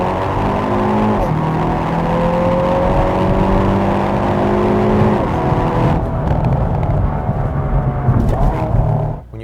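A 2021 Hyundai Veloster N with an 8-speed dual-clutch gearbox accelerates hard on a rainy night, its engine note climbing loudly through several quick upshifts, each marked by a brief dip before the pitch rises again.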